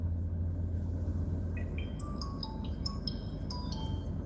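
A mobile phone plays a repeating melodic ringtone of short rising tones, starting after a moment and going on over a loud low rumble of background noise.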